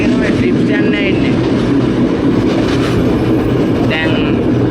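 A passenger train on the line to Puttalam rumbles loudly and steadily throughout, with continuous rail and carriage noise and faint high wheel squeals now and then, heard from on board.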